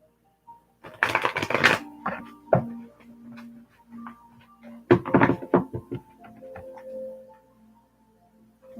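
Tarot cards are shuffled in quick riffling bursts with clicks and soft taps between them, close and fairly quiet in an otherwise still room.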